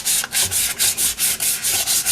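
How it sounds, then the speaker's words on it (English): Hand sanding rust off a part of a 1973 Honda CB750 rear wheel with 220-grit sandpaper, close up: steady back-and-forth rasping strokes, about eight in a regular rhythm, with no talk. "5 minutes or so of some sanding with some 220, most of the rust is gone"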